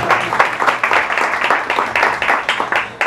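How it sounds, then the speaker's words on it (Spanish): Guests at a birthday party clap in a dense, steady burst of applause lasting a few seconds, fairly close and loud, with no words spoken over it. "Aplausos, Luis."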